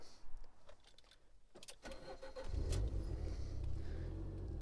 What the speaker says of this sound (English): It starts easily, hot or cold.